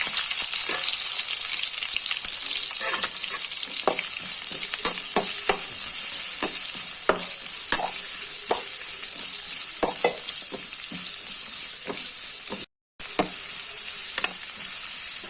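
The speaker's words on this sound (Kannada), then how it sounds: "ಈರುಳ್ಳಿ ಪಾಡ್ದು ಲಾಯ್ಕ್ ಮತ್ತು ಅವರ ಮಿಕ್ಸ್ ಕೊಡ್ತಾಯಿದೆ" Onions fry in a pan with a continuous loud sizzle while a spatula scrapes and knocks repeatedly against the metal in an uneven rhythm, close and with no talking.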